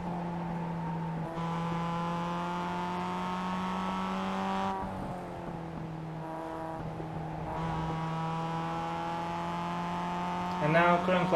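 A Mazda MX-5 Cup race car engine at Laguna Seca winds up steadily under throttle through the gears, with two clear drops in pitch at the upshifts, heard close and droning from inside the car.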